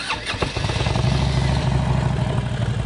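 A 2005 Harley-Davidson Electra Glide Classic motorcycle engine running close by, a steady low rumbling V-twin throb with loud rhythmic pulses after a brief clattering start.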